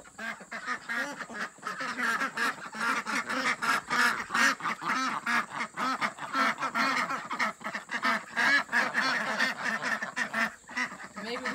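A flock of ducks in a backyard poultry coop quacks continuously and loudly, many overlapping rhythmic calls close by, with honking fowl mixed in.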